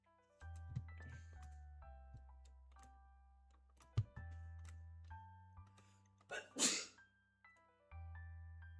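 A single sharp sneeze bursts out near the end over quiet background tones, close and brief.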